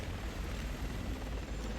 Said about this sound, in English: The chopper's pulling back.